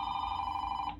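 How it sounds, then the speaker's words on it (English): Steady electronic telephone ring with a strong sustained tone, continuous and fairly close, cutting off abruptly near the end. "the phone's ringing off the hook"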